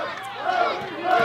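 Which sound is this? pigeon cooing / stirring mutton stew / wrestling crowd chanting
wrestling crowd chanting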